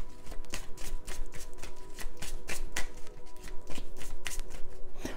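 Tarot or oracle cards are shuffled by hand close up, giving a rapid run of crisp riffling flutters and soft slaps in quick bursts, with no talking over them.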